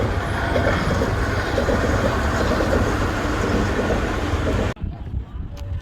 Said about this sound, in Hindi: मेट्रो दिखा था ना, मेट्रो